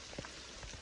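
Rain falling during a bike-camping trip between Valencia and Alicante, a steady soft patter of drops on a surface with a few louder close taps, faint and continuous throughout.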